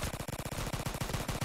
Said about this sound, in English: Okay. So let's each get a random gun. We're gonna test out how better it is. Okay. Shoot each other.